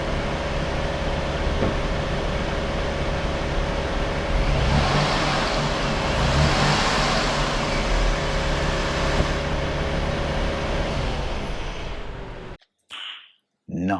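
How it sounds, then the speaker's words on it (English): Engine of a 2005 Jeep Grand Cherokee revving after a serpentine belt and tensioner replacement, a loud sustained roar that swells in the middle and cuts off sharply near the end, heard close. "We'll rev it just to see."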